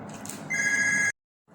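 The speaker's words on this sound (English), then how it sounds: "And the phone rings again." A telephone rings indoors with a steady electronic ring lasting about half a second, loud and close, then cuts off into silence before faint room noise returns.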